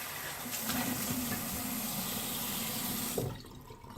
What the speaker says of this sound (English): Let's get rinsed off.